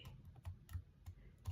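Keys on a computer keyboard tapped softly in an ASMR setting, with gibberish being typed; quiet, close, irregular clicks and thocks arrive every fraction of a second over faint background hiss.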